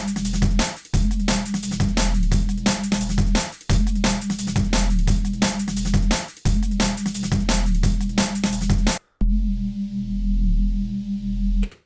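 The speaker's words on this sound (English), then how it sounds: "today I've got a little bit of a jungly kind of sine wavy bass, which was on the latest Vital preset pack Renaissance" A jungle-style sine-wave bass preset from the Vital synth's Renaissance pack plays a deep, rounded bass line over a busy breakbeat drum pattern, looping in repeated bars, loud and close, with a short drop near the end.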